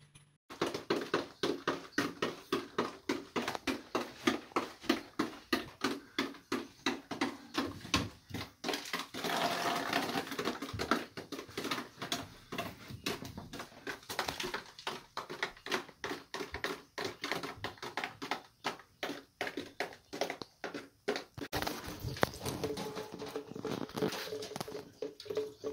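Water from an opened ceiling drips steadily into a bathtub, a dense, rapid patter of close splashing drops that continues throughout with slight shifts in intensity.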